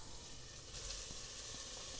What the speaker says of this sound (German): Öl in der Pfanne erhitzen und jetzt Zwiebeln und den Speck dazu